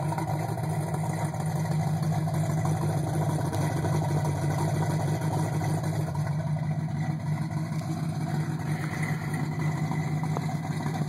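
A 1983 Monte Carlo SS engine idles steadily with a low, constant exhaust rumble, close by and without any talking.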